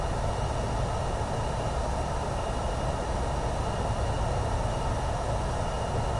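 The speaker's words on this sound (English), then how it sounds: "This jet, I love this jet, but it is louder than heck" A jet's engines roar loudly and continuously while it taxis along a strip in Microsoft Flight Simulator 2024, a dense, unbroken rumble and whine with no pauses and no one talking over it.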